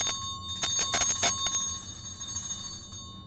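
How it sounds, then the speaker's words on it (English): A bell rings in a quick cluster of bright strikes during the first second and a half, then its metallic tone hangs and fades over a steady low background hum. "The bell has rung."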